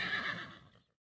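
A single horse whinnies loudly and close, a bright neigh that trails off within a second, with no hooves evident.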